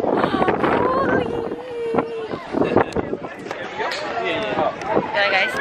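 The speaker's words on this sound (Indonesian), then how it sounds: "You're ready to fight the wind, huh?" Strong wind whips along a New York City street, a continuous gusty roar buffeting the microphone while people talk and call out over it.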